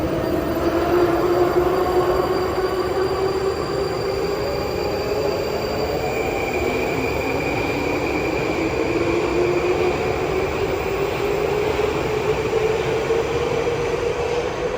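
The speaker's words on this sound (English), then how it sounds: "let me wait for the train to move" A Moscow metro subway train moving along the track, with a steady loud rumble of rolling wheels and rising, sliding squeals from wheels and motors throughout, close and continuous with no voices.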